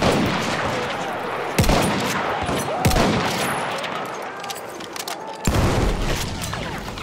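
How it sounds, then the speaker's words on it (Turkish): Machine gun fire and heavy gunshots in the Battlefield 1 Suez frontlines mode, sharp loud bursts at irregular intervals over a constant battlefield din, with in-game soldiers shouting. "Makinalı tüfek! Çabuk olun!"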